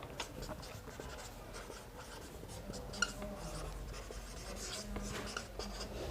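Writing on a board during a class 9 maths lesson on triangles, a soft continuous scratching with faint taps, low and close, with no speech over it.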